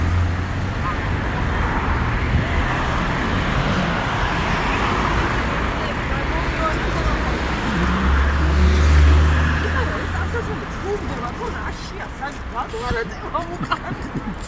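Inside a moving car, a steady engine drone and road rumble run throughout at close range, with low swells midway and people talking over the noise.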